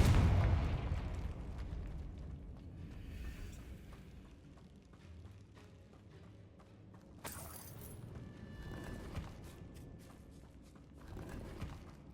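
A Confringo spell blast in Hogwarts Legacy sets off a heavy, booming burst at the start, and a second sharp explosive crack lands partway through. Rumbling game ambience runs between the two blasts.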